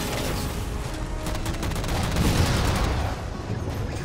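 Sustained gunfire in the video game Halo 4 aimed at jammers, a dense continuous rattle of rapid shots filling the whole stretch at steady loudness.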